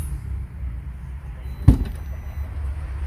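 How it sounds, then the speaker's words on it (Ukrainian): A Honda CR-V door lock and soft-close latch release with a single sharp clunk as the door opens. The mechanism is heard alone against near silence. "Спрацьовує відкривання нашої дверки."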